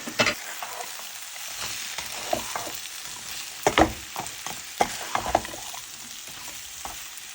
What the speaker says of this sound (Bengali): এখন দিয়ে দিব চিকেনগুলো আর চিকেনগুলোকেও মিক্স করে নিব সবজিগুলোর সাথে